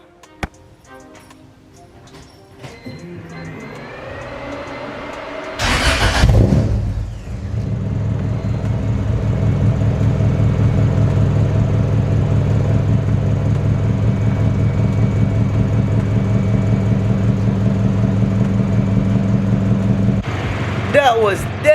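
Honda Civic with a B20 swap and eBay exhaust cold-starting after a few ticks and clicks, cranking briefly then settling into a loud, throaty idle close by, with a voice speaking near the start.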